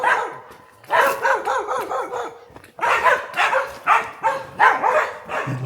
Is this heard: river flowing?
no